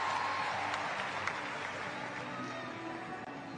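An arena crowd applauds a gymnastics balance beam routine, steady clapping and cheering filling the space at moderate distance, with a commentator speaking over it.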